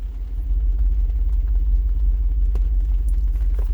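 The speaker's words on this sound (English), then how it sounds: "this button right here is not some binoculars, it is the active exhaust. So when I push this button, it is going to get noticeably louder in the cabin" Inside the cabin of a 2021 Jeep Wrangler Unlimited Rubicon 392, the active exhaust gives a deep, steady low rumble, with faint clicks and small knocks over it.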